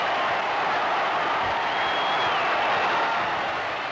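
Crowd noise at Shea Stadium during the 1969 World Series between the Mets and Orioles, a steady, broad roar of cheering after a home run, held at an even level with no talk over it.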